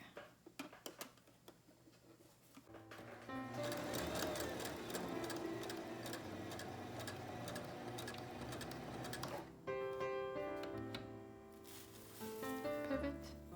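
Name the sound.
sewing machine stitching fabric masks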